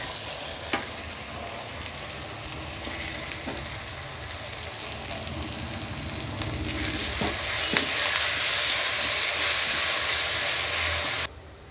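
Ground green chili and ginger-garlic paste frying and being stirred in a pan, a steady close hiss that grows louder midway, with a few scraping knocks, then stops abruptly.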